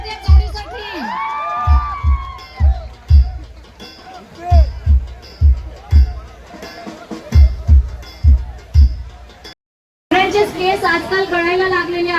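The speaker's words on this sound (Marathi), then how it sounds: "एकदा जोरदार टाळ्या झाल्या पाहिजे" A lively crowd at a live stage show cheers and whoops over a steady rhythmic beat, with high shrill shouts. It cuts out briefly, then loud cheering resumes.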